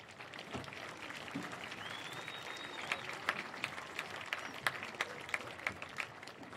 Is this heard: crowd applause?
yes